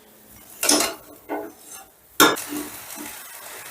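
Pulao with slit green chillies, fried cashews and raisins being mixed in a pan: a few sharp metallic clanks and scrapes of a spoon against the pan in uneven bursts, with a soft sizzle between them.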